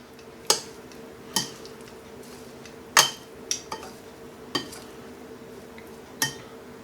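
Salad being tossed after a sprinkle of salt and fresh cracked pepper, heard as a series of sharp, separate clinks and taps of utensils against a bowl, spaced unevenly and fairly close, with no talking.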